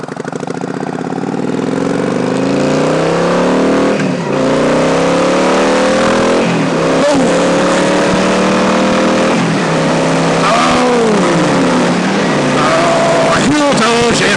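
A 2007 Yamaha V-Star 1100 Classic motorcycle engine revs loudly and steadily up close, its pitch rising and falling through repeated throttle blips and gear changes, with the engine continuous throughout.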